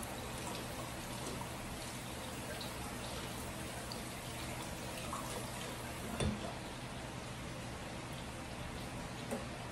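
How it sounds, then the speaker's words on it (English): Running water splashes steadily from a tap as hands are rinsed in a home kitchen while cooking crawfish, a soft continuous hiss with one brief louder splatter. "Wash this off my hand."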